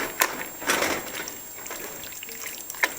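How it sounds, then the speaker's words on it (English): Tap water is poured from a can into a pot of dry chili, giving a short soft splash and trickle with a few small clinks, close and fairly quiet, with no talking. "maybe a little less than half of a can of just tap water."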